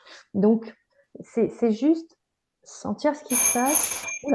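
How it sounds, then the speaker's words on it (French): A doorbell rings once indoors, a bright sustained chime cutting in partway through and overlapping a French-speaking voice, with other talk before it. "c'est une sonnette"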